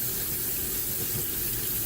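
Hot tap water runs steadily over soapy hands at a sink during hand washing, a constant quiet splashing stream with no pauses.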